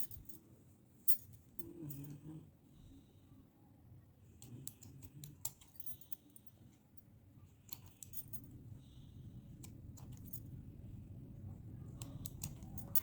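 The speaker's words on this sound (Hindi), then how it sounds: "और उसके बाद जो हमारे एक्स्ट्रा कॉर्ड्स है अब हम उनको काट देंगे" Scissors cutting extra macrame cords, a few quiet snips and clicks scattered over a faint, low background, close and intermittent, with no voices.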